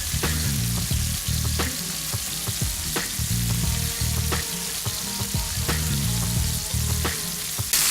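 Chicken breasts fry in a pan with a loud, steady sizzle and crackle, close and continuous, with occasional clinks and scrapes and no voices.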